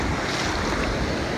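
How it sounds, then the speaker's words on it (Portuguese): Sea waves wash in and break on a beach at Porto de Galinhas, a steady broad roar of surf and rushing water with wind buffeting the microphone, close and continuous. "Vou deixar a água bater."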